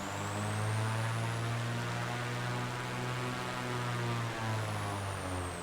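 Supercharged piston engines of a simulated Baron G-58 in Microsoft Flight Simulator, a continuous close engine hum with a high thin whistle running over it, steady and loud with no voices.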